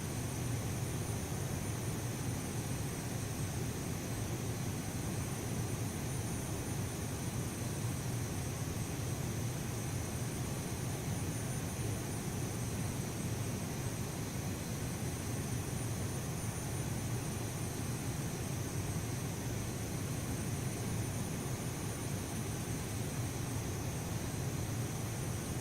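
A jet airliner on landing approach in Microsoft Flight Simulator X, flying from CYGR to KBOS, gives off a continuous, even engine drone and cabin hiss with no change and no voices.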